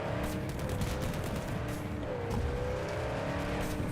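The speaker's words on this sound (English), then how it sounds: "we can also activate here our machine gun and shoot a bit." A car-mounted machine gun firing in the video game Cyberpunk 2077 after its 2.1 update: rapid bursts of gunfire over a continuous engine drone while the car drives.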